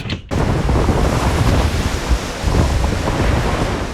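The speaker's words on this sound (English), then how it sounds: "listening to the wind and feel how the waves tosses Tessie around like a wine cork" A storm drives strong wind and surf against a small sailboat, and the roar is loud and constant. Gusts batter the microphone and rumble right up close.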